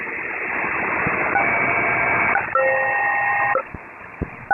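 Two-tone SELCAL check keyed over HF aircraft radio for a JetBlue flight with New York oceanic control, steady paired tones stepping through two tone pairs above a hissing, band-limited radio noise floor, ending with brief clicks.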